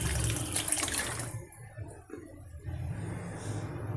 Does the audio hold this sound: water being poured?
yes